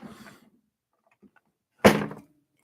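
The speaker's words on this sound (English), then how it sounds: "1 second, I gotta close this drawer." A drawer shuts with one solid thunk, close and fairly loud, after brief muffled speech and a little quiet.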